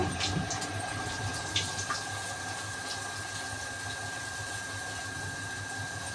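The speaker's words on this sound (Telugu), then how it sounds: "మోటారు" Electric motor pumping water at home, a steady low hum with water splashing and filling continuously, a few small clinks near the start.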